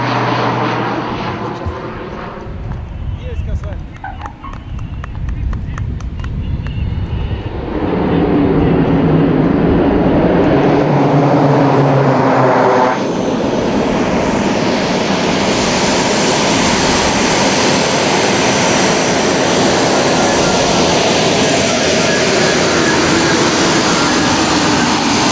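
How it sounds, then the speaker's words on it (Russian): An L-410 short-haul passenger airplane lands at a small regional airport, its engine roar rising loud and close before settling into a sustained, steady drone for the rest of the clip, with no talking. "совершил свою первую посадку ближнемагистральный пассажирский самолет"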